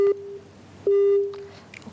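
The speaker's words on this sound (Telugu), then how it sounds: "ఓకే, లైన్ కట్ అయినట్టుగా ఉంది." Telephone busy tone on a phone-in line after the caller was cut off, two steady pulses of a single tone, clear and alone.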